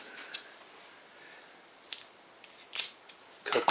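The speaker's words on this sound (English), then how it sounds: "now I'm going to cut the tape back here" Tape being cut with scissors while taping down a board during ornithopter building: a few quick, crisp snips close by, scattered irregularly through the latter half after a quiet start, with no talking.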